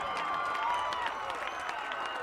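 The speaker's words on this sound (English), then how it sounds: "You hear that crowd erupt, the Wildcat faithful." High school football fans erupt in cheers and applause after a safety, a sustained, distant-sounding crowd roar with scattered claps and whoops.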